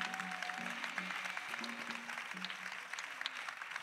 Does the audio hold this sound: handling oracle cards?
no